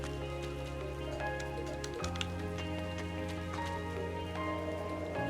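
Steady rain falls in Station Square in the game Tokyo Xanadu eX+, a continuous even patter over a low ambient hum, with a faint bird call and a brief tonal shift partway through.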